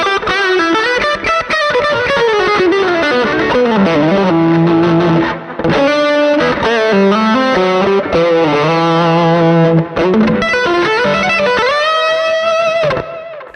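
An electric guitar plays a fusion tone through a home-built amp modeler, with smooth sustained lead lines and chorus-tinged overdrive running continuously without any talk.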